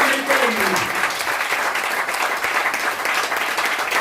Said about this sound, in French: Acclame celui qui est en toi.